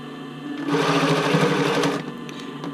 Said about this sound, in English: And then you're just going to zigzag all around.